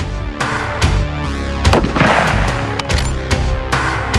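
Magnum rifles firing hand-packed rounds at a long-distance shooting range, loud sharp gunshots cracking in quick succession with booming echoes rolling between them.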